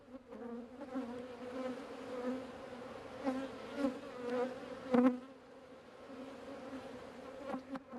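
Honeybees from a hive with a mean queen buzzing around it, a steady droning hum with individual bees swelling louder as they pass near.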